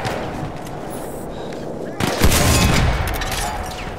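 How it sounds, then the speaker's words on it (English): Grenade blasts in the Battlefield 1 video game, a dense rumbling burst of battlefield explosions and gunfire that jumps louder midway and stays heavy to the end, with a voice talking underneath. "I'm just throwing grenades"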